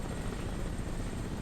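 A helicopter in the video game Crysis Remastered gives a steady, dense rotor and engine roar, fairly faint and continuous with no speech.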